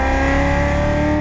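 Loud, close engine roar of a Corvette Z06 Stingray accelerating hard on a race track, a steady high-revving drone with no talk over it.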